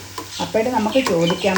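Country chicken being stir-roasted in coconut oil in a pan, a soft sizzle and scraping under a person talking over it.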